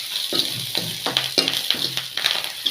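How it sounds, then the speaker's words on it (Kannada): Onion, garlic and curry leaves sizzling in hot oil for a South Indian tempering, a close crackling fry broken by rhythmic scrapes and stirs of a spoon in the pan, with no talking. "ಈ ರೀತಿ ಒಗ್ಗರಣೆ ಕೊಡಿ. ಈರುಳ್ಳಿ, ಬೆಳ್ಳುಳ್ಳಿ ಹಾಕಿ ಕರಿಬೇವು ಹಾಕಿ ಚೆನ್ನಾಗಿ"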